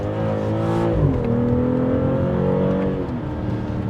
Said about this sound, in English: that's one thing it's gonna impress you with, is its acceleration, the engine sound